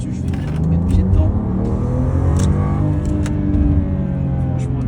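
A BMW 435i Pack M engine pulls hard under full throttle, a steady loud low-pitched rumble building from inside the cabin, with a voice speaking over it.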